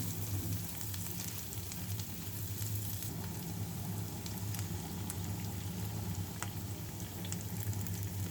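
Onions and green chillies frying in a pan make a dense, steady sizzle with fine crackles and occasional sharper spits, continuous and close with no speech.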